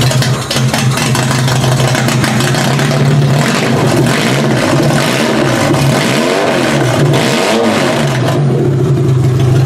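A demolition derby car's engine fires up and runs roughly on only three of four cylinders, a loud uneven revving rumble with surging throttle bursts, close and with no talking.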